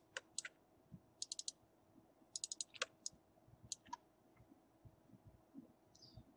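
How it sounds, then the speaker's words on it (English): A computer mouse clicked repeatedly, faint close taps in pairs and small clusters over a quiet room background. "double click it through"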